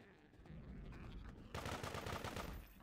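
Rapid automatic gunfire in the game Garry's Mod during a zombie fight, a dense rattling burst that starts abruptly halfway through over a steady game background.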